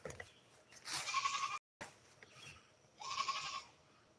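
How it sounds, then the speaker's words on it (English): Goats on a homestead bleat twice, two drawn-out wavering calls a couple of seconds apart, fairly close and clear against quiet outdoor background. "Goats down there."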